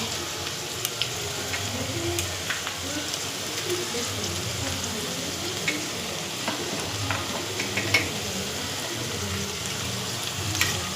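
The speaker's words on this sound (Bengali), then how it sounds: "এরপরে আমি ক্যাপসিকাম কুচি দিয়ে দিচ্ছি।" Chopped capsicum goes into a pan with softened onions and half-cooked carrots, a constant soft sizzle with scattered light stirring clicks, steady and close.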